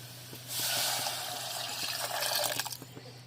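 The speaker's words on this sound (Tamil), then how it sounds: "இப்போ நம்ம வந்து தண்ணி சேர்த்துக்கலாம்" Water is poured into a pot of mutton soup with sautéed masala, a close gushing splash that starts abruptly, runs steadily, then breaks into trickles and drips at the end.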